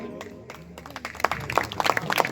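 Scattered, uneven hand clapping from an audience at a religious discourse starts sparse, then grows into an unsynchronised patter of individual claps.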